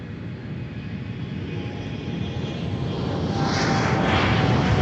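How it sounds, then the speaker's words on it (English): An airplane on the runway at MSP airport gives off a steady, loud engine roar that swells gradually over several seconds, heard alone without any voices. "Look at those props."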